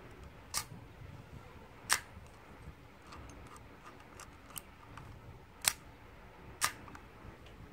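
A Nikon film camera's shutter fires on the B setting during testing after repair: four sharp, crisp clicks, spaced unevenly and heard up close against a quiet room.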